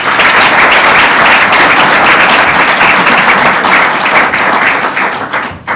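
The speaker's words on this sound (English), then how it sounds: "So please join me with a round of applause to welcome Hodding Carter." An audience at a conference opening address applauds to welcome speaker Hodding Carter. The clapping is loud, dense and sustained, then thins out and fades over the last second, with nothing else heard.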